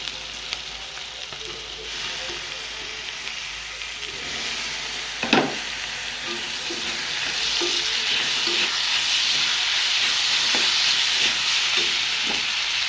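Onion and tomato fry in a pan for a jackfruit seed cutlet masala, a steady hissing sizzle that grows louder and fuller, with a single metal clank near the middle and a few light stirring knocks.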